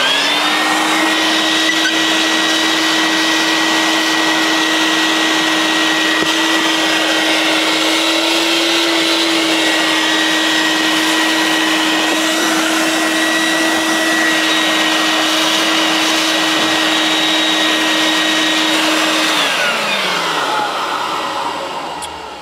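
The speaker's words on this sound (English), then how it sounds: "Get the vacuum real quick." A vacuum cleaner roars loudly and steadily for a long stretch, then winds down as its motor is switched off.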